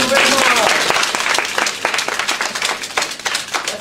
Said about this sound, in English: applause for Wendy Harbour King